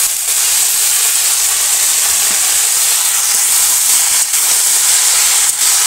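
Chopped red amaranth greens hit hot oil seasoned with mustard and chilli in a village kitchen, giving a loud, steady, close hiss of frying that holds without pause.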